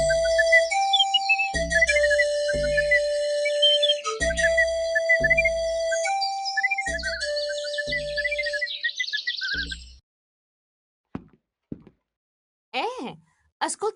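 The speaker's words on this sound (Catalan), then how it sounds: "Sisplau, senyor Boris, pari de xiular aquesta melodia tan pesadeta." A whistled melody from the Otijocs CD-ROM game runs for about ten seconds over soft rhythmic thumps, then stops abruptly, leaving near silence with a few brief, scattered vocal noises.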